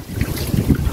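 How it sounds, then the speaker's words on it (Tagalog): Strong wind buffets the microphone at an overlooking campsite, a steady loud low rumble with gusty swells and no speech. "Lakas ng hangin."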